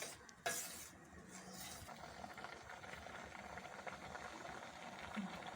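Apple kheer thickened with khoya simmers in a pot while a spoon stirs it, giving soft continuous scraping and faint bubbling with one brief clink near the start and no talking.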